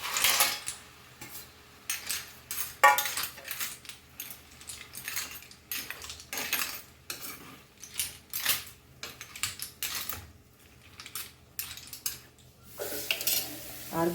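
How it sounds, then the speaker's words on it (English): Clams are stirred into a Goan clam stir-fry in a pan, their shells clattering and clinking in irregular bursts at close range over roughly fourteen seconds, with nobody speaking. "Now we'll add our clams also in this."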